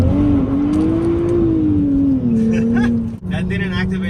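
A 2023 Nissan Z holds a steady, loud engine drone during a launch control attempt in sport mode with the brake held, the pitch rising slightly and then easing off in a continuous hum.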